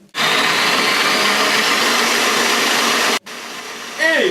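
A Kenwood stand mixer whisks egg whites with a loud, steady motor whir that cuts out briefly and then restarts.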